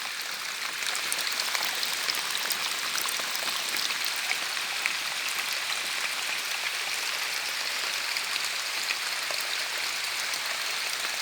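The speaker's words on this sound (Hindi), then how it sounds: "ये जंगल में फिर भी पानी आ रहा है" Water trickling and flowing out from the base of a sal tree in a forest, a steady, continuous splashing wash that stays even and fairly close throughout.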